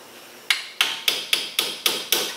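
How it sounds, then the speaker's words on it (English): A small punch struck with a hammer to tap a shifted shim back into place during a Yukon 4.88 gear install on a Jeep Wrangler axle: six sharp, evenly spaced metallic taps, close and clear, with no talk. "I've got a small punch here because I can see, it's going to be hard to see on the video, but I can see that this shim moved"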